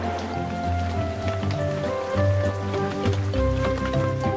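Steady rain patters on a bulldozer, a tractor and a combine harvester left outdoors, a continuous close hiss running under soft tonal music.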